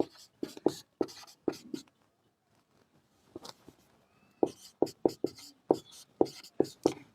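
A pen writing out a maths equation on paper, quick close scratchy strokes in bursts with a pause in the middle, then more rapid strokes.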